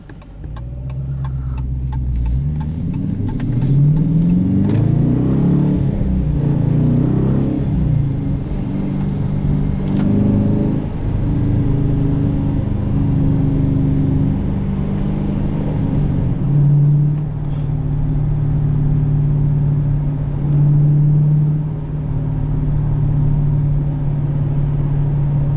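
A 2018 Dodge Challenger Shaker with the 5.7 V8 and a manual gearbox revs up and settles in a deep, steady engine rumble, with the pitch climbing and falling through several throttle blips.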